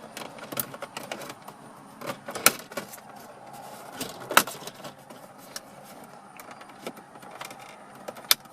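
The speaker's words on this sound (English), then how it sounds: "you'll use a combination of the pry tool and pulling out with your fingers to release the trim" Plastic dash trim on a 2016 Ford Focus being pried loose with a pry tool, scattered sharp clicks and snaps amid quiet rustling and handling noise.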